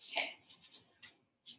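Short, scratchy rubbing strokes as writing is erased from a classroom board, a few quick swipes in a row followed by a brief pause and one more stroke.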